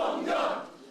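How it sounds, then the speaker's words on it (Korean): A crowd of party officials erupts in cheers and shouts as a South Korean presidential election victory is confirmed, the roar swelling loud in the middle and then easing off. "문재인 후보의 당선이 사실상 확정되는 순간 환호성이 터져나옵니다."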